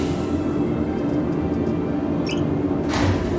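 A sliding door panel in the Star Citizen game on Microtech, a soft electronic whoosh with a short synthetic chirp and a brief airy swish near the end over a constant low hum.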